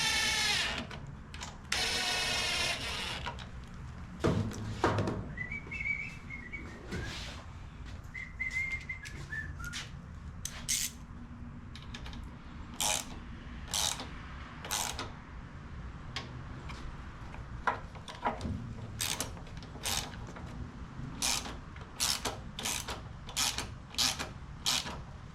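A ratchet wrench tightens a part on a Honda Harmony HRS216 push mower that sat stored for years, giving rapid clicking runs in repeated short bursts close by, with faint tool and handling noises between.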